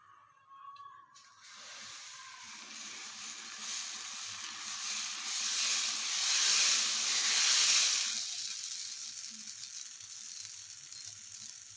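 Dosa batter sizzling on a hot pan, a steady broadband hiss that swells louder in the middle and then eases back, continuous and close with no talking.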